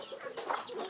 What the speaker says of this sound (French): je prendrais la mère poule qui est là-dedans.